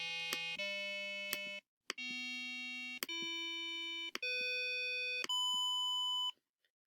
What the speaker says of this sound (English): I made a different frequency for each button, starting from 150 Hertz to 600 Hertz.